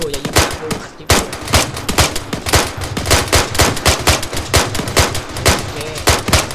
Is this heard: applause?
no